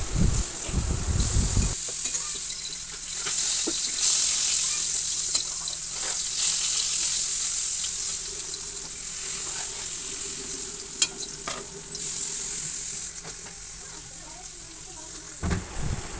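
Vegetables sizzling and being stirred in a pot of khichuri on a rainy day, a steady close frying hiss with occasional scraping and knocks of the spoon, and no talking.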